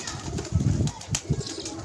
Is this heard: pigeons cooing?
yes